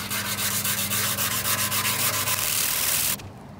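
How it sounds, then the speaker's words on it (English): Coarse 80 grit sandpaper rubs rapidly back and forth over body filler on the gas tank of a Honda ATC 200x, loud and close in quick repeated strokes that stop abruptly just before the end. "we're gonna use some body filler, so we're gonna use some 80 grit right here."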